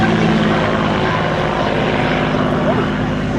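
A Mark 1 Spitfire flies past at an air show, its propeller engine a loud, steady drone throughout with a commentator's voice over it.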